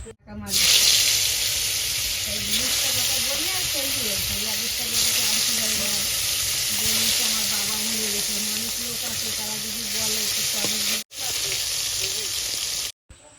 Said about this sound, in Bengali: এবার আমি মাছগুলো দিয়ে দেব কড়াইতে।